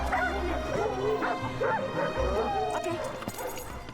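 Sled dogs in harness in Canada's Yukon north bark, yip and whine together, a busy, excited chorus of overlapping voices at moderate distance, continuing without pause.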